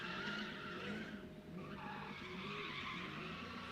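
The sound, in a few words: Mustang GT drifting in pit, tires skidding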